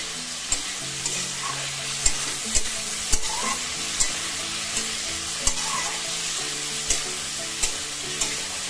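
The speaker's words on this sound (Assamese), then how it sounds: "এতিয়া সিজোৱা আলু দিছোঁ, অকণমান লৰাই ল'ব লাগিব" Greens, tomato and boiled potato frying and being stirred in a pan: a steady sizzle throughout, punctuated by regular sharp scrapes and taps of the spoon against the pan, close and fairly loud.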